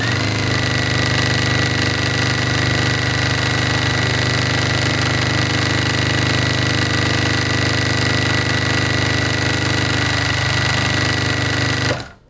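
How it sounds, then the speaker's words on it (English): A sewing machine runs steadily at speed, stitching over previous stitches on a fabric seam, a continuous close whirring drone that stops abruptly at the end. "And when I sew, I'm just going to make sure I cover my previous stitches."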